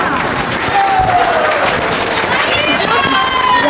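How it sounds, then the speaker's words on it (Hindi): A large audience claps in a temple during a children's cultural drama program, dense sustained applause filling the whole stretch with crowd voices and a whistling tone mixed in. "अभी भी ये तालियों की आवाज़ मंदिर से बाहर नहीं जा रही है।"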